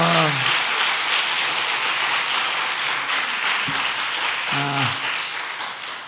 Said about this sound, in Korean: 한 번 더 축복의 박수 주세요